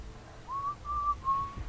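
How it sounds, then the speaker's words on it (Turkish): A nearby whistler in the video game Dishonored 2 sounds three short, level, clear notes in a row over a low steady background hum. "Çok yakından geliyor ıslık sesi ama."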